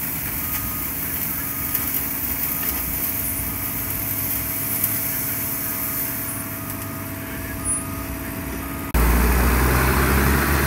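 A pickup broom sweeper attachment on a JCB Pothole Pro runs steadily with a droning engine and brushing whir, then the machine noise jumps louder and rougher near the end.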